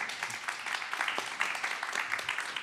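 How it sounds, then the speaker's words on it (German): Audience applause at a German stage panel discussion on misinformation and fact-checking, a steady dense clapping that fills the whole stretch at moderate level with no voices on top. "Applaus für die drei erstmal"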